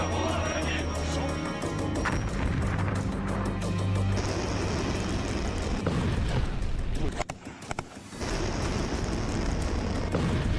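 Drone-strike explosions in Kherson, Ukraine, heavy blasts and crashing roars filling the air in a dense, chaotic barrage, briefly dropping off before surging back.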